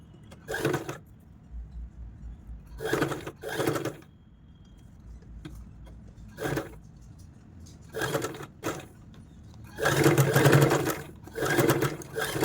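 An electric sewing machine stitches a neck design on fabric in short, rapid bursts of whirring and clatter separated by pauses for adjusting the cloth, close and clear, with one longer run near the end.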